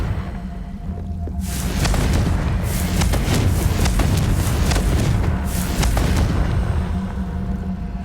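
Spell blasts and explosions from combat in the Hogwarts Legacy video game, a Confringo fire spell among them, booming in a dense, loud burst of repeated impacts over a low rumble for several seconds.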